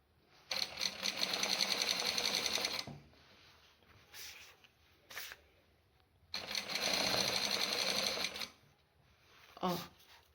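A sewing machine runs along a skirt hem in two long bursts of rapid, steady stitching, with short quiet pauses and a few small clicks between them.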